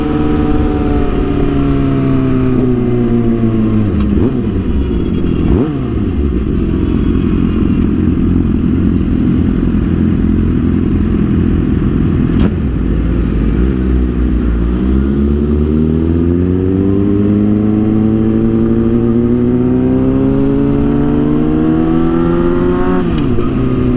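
A Suzuki GSX-R600 sport motorcycle is ridden hard, its engine loud and close with rising and falling revs through repeated gear changes and a steady high-pitched whine, no voices.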